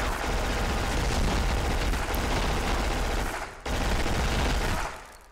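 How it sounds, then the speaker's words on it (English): Dense gunfire and a grenade explosion in the video game Black, loud sustained chatter of automatic weapons with a sudden cut and heavy blast. "Grenade!"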